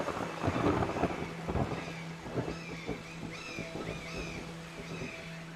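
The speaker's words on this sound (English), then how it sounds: "For much of the night, it's been raining, and the sleeping area is flooding." Steady rain falls at night in the rainforest on Mount Bosavi, a dense continuous wash with low rumbling, while insects or frogs chirp faintly in the background.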